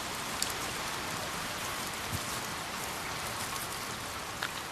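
Steady monsoon rain pours down in the rocky hills of Jawai, Rajasthan, a dense, even hiss of drops hitting the ground and leaves, with a few sharper close splats standing out now and then.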